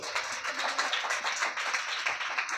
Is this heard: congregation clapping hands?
yes